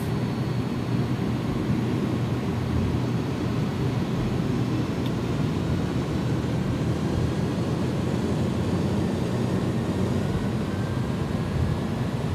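Steady broadband roar of an iniBuilds A300-600F freighter's jet engines during the takeoff roll in X-Plane 12, a constant dense rush of engine noise without pause.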